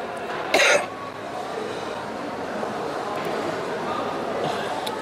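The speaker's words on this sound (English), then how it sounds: "still struggling with this cough" A single short, sharp cough near the start, then a steady low background murmur for the rest.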